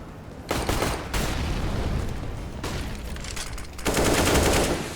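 Pistol gunfire during a competitive Counter-Strike match on the Overpass map, with dense bursts of shots and sharp cracks in rapid sequences across the whole stretch, fairly loud and layered over constant game ambience.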